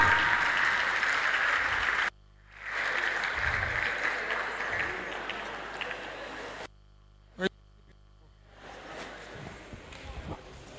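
Clapping from a seminar audience at a Rotary youth leadership event, in bursts broken by abrupt silences, fairly close and slightly uneven, with a short sharp spike partway through.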